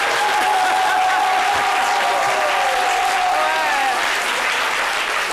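A studio audience at a French midday television show gives sustained, even applause, close and steady throughout, with a few voices under the clapping.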